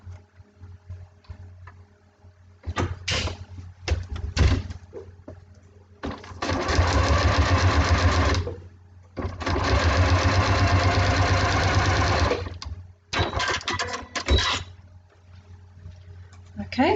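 A domestic sewing machine stitching a seam through fabric, running in two long steady bursts of rapid mechanical whirring with short stop-start runs around them, close up with no talk.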